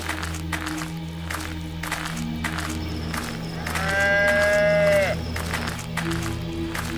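A bull bellows as a sound effect in a story about a frightened bull charging at a crowd in a village market, one long, loud moo over a layered background of music and bleating livestock.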